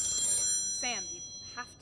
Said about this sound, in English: Don't you think you should wake up and answer the phone?